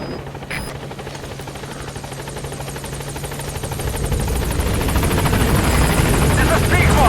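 A helicopter in Metal Gear Solid V: The Phantom Pain on PS4 arrives at a landing zone, its rotor chop building steadily and growing louder and closer, while radio chatter plays over it.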